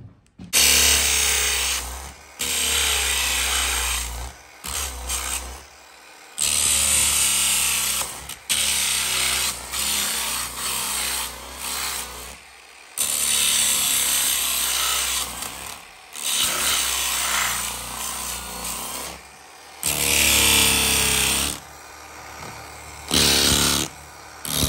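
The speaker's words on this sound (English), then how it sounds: "You can get the sander and we'll just grind this off." An electric sander grinds the front of old pallet boards in loud bursts of a few seconds each, broken by short pauses, with a harsh, steady abrasive whine close to the microphone.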